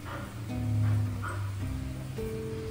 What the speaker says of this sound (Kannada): ಅಲ್ಲಿ ಆ ಕಡೆ ರೋಡಲ್ಲಿ ಒಂದು ಬೊಗಳ್ತಾ ಇದೆ